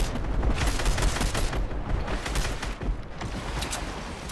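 Rapid gunfire in the video game Fortnite, a dense, continuous barrage of shots rattling close by for the full stretch with no pauses and no talk.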